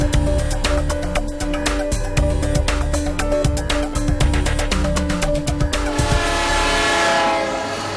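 A train on the Paranaguá–Curitiba railway rolls loudly and close with a rapid clickety-clack of wheels on rail joints and a sustained horn tone, the rattling easing off toward the end.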